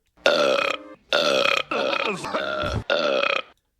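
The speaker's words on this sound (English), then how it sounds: "he always burps really loud" Four loud, drawn-out burps in quick succession, each lasting about half a second, rich and resonant, with no talking around them.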